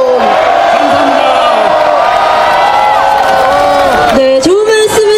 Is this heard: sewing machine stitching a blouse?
no